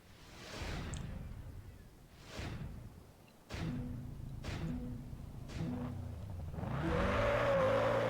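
Quad-turbo V12 car of about 1,000 horsepower in Test Drive Unlimited 2, heard in several rising engine surges that swell and fade, with a whistling whine building near the end.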